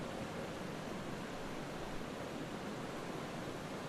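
The Mara River in Kenya flows past a safari tented camp as a soft, even, continuous rush of water, faint and unbroken with no voices.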